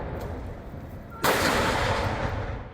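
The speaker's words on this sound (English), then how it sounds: "With a 19-gun salute, Taiwan President Lai Ching-te welcomes St." A single loud cannon blast from a 19-gun salute at a Taiwanese state welcome ceremony in Taipei, booming in suddenly and then leaving a long, wide reverberant roar that slowly dies away.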